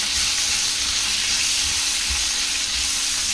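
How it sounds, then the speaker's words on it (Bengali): Flat beans (shim) fry with turmeric and salt in a pan, making a loud, dense, continuous sizzle close by, with faint stirring underneath and no talk. "এর মধ্যে হলুদ আর নুন দিয়ে ভাজবো সিমটাকে।"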